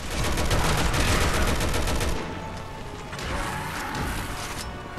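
Gunfire in the Resident Evil 6 video game: rapid overlapping shots in a dense burst for two seconds, then scattered sharper reports over a rumbling background.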